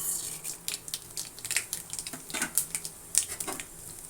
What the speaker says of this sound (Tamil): நல்லா சட சடன்னு வெடித்து முடிக்கிட்டோம்.